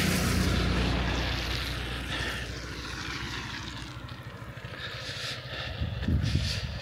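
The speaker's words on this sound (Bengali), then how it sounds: "গাড়ি আসছে" A car on a snowy mountain road near Manali approaches with a steady, fairly loud engine drone over wind-like broadband noise that swells slightly toward the end.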